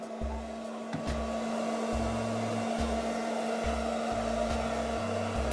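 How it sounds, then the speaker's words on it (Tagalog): An electric blower powered by a 12V-to-220V 1000-watt modified sine wave inverter runs with a steady, loud whine, joined by a low electrical hum that stops and starts in uneven pulses. "Ang lakas ng blower."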